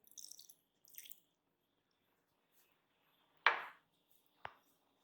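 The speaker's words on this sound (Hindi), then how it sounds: "थोड़ा सा हम पानी ऐड करेंगे।" Water is poured over two large tomatoes while making chicken bhuna masala: some soft drips first, then one quick splash and a short final drop, close up in a quiet kitchen.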